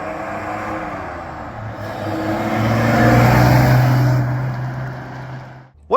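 A 1949 Studebaker Champion car's engine runs steadily nearby, a smooth idle that swells in a brief rise in revs and then settles, ending with a short sharp knock.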